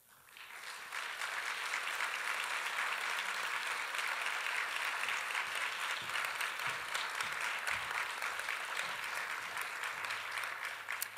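Sustained applause from a large audience welcoming a speaker to an arts education panel, steady and full after a quick swell, ending with a few stray claps.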